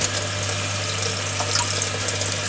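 Water streams steadily through an Aqua One Aquareef 400 marine aquarium that is still cycling, a continuous close rushing flow with a low pump hum underneath.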